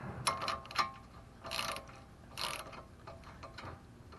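A ratchet clicks in short bursts while tightening a tie rod castle nut on a 1995 Toyota Camry, close and fairly quiet, with a few separate runs of clicking.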